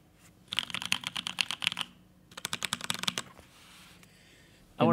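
Fast typing on a custom-built mechanical keyboard comes in two bursts of crisp, rapid key clacks separated by a short pause, close and clear.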